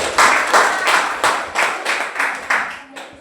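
A classroom claps for a student, with about seven rhythmic bursts of clapping from a small group of hands, fairly close and moderately loud.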